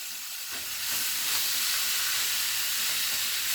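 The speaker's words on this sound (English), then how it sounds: "I've got the oil hot, and I'm going to take my meat, and we're going to brown the meat" Beef chuck and ground meat brown in hot oil for Texas chili, a close, steady hissing sizzle that swells louder after the first second and holds on alone.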